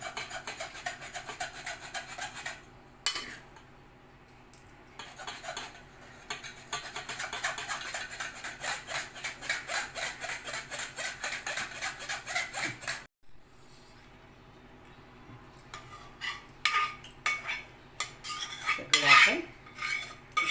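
A metal spoon scrapes and rubs against a mesh strainer, pressing blended drumstick soup through, in quick rhythmic strokes, with brief pauses and a few light clinks.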